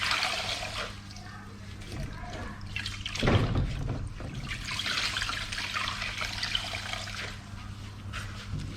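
A motorbike air filter is rinsed and squeezed in water, giving close sloshing, trickling and dripping sounds with one heavier splash midway, fairly quiet overall.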